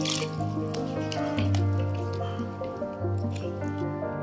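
A little water poured into frying masala in a pan, a liquid splash and sizzle with bubbling, close and fairly loud, alone for about four seconds.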